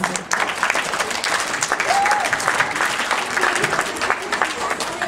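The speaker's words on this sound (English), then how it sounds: "let's give him one more round of applause" At a school assembly, students give a sustained round of loud applause, dense and continuous, with scattered voices and a brief whistle-like call rising over the clapping.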